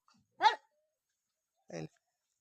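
Two short, sharp barks from a female hunting dog about a second apart, close by, with silence around them.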